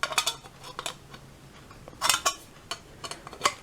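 Sheet metal edge folded over wire for a pre-war car's wired edge guard: a series of sharp metallic taps and clinks, irregularly spaced, some in quick clusters, fairly close.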